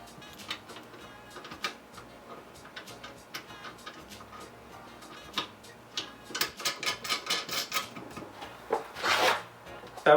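A 7/16 socket wrench ratchets as bolts are lightly tightened, a close series of quick metallic clicks that speeds up into rapid bursts toward the end.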